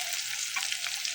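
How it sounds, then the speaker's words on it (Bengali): Rice frying with egg in a pan: a continuous close sizzle with small crackles and pops throughout, no talking. "আমি ফাঁকে ভাত ভাজি করতেছি ডিম দিয়ে।"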